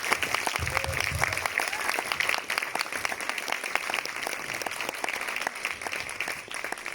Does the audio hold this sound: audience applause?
yes